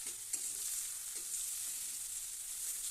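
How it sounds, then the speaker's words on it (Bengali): Spices frying and sizzling in a pan for a Bengali fish-head and Gobindobhog rice muri ghonto, a steady close hiss with a few soft stirring scrapes, no voices. "এটা মশলাটা কষিয়ে নিচ্ছি"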